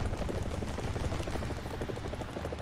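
An AH-1G Cobra gunship helicopter flying in the War Thunder video game, a steady, fast rotor thump with engine whine, heard at moderate level without pause for under three seconds.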